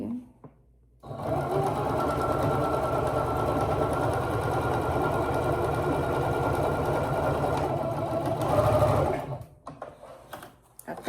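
A sewing machine stitches old jeans in one long, steady whirring run of rapid needle clatter, close and moderately loud, starting after a quiet second and stopping near the end.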